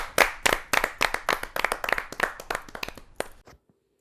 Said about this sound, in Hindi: जोरदार ताली के साथ यज्ञ सैनी साहू जी का।